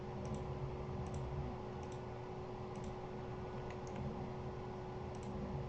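A computer mouse clicks steadily during 3D modeling work in Fusion 360, with small sharp clicks repeating at a regular pace over a constant background hum.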